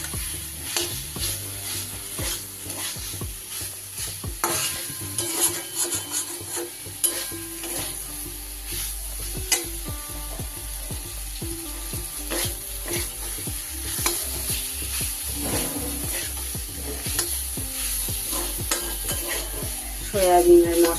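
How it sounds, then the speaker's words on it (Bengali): Soybean chunks frying with spices in a pan for a potato and pointed gourd vegetarian curry: a steady sizzle runs throughout while a spatula scrapes and knocks against the pan in frequent, irregular strokes. "সয়াবিনগুলো দিয়ে একটু ভালো করে মশলার সাথে কষিয়ে নেব"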